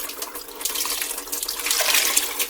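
Water poured from a tap into a cooking pot to rinse out leftover spaghetti sauce, a steady close splashing and running stream that swells slightly louder toward the end, with no talk.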